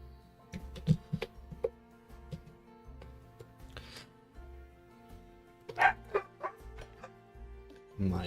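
Two dogs barking indoors at a home, a few sharp barks around the one-second mark and a louder cluster near six seconds, over a steady low background hum and music.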